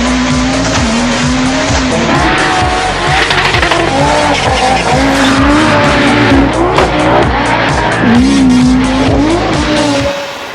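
A Group B rally car slides with its wheels locked up and the steering hard over, loud engine roar and steady tire squeal running throughout, alone with no talk.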